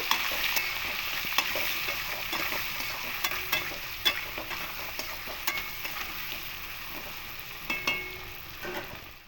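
Boiled potatoes with turmeric and salt fry in oil in a pan, a steady close sizzle broken by repeated sharp scrapes and clicks as a spatula stirs them.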